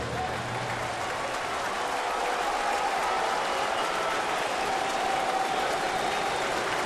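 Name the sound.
Mets fans applauding at Yankee Stadium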